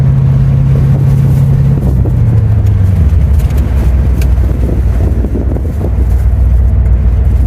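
A C4 Corvette with a V8 and six-speed manual drives along, a loud, close engine drone whose pitch falls as it shifts, with road and wind noise around it.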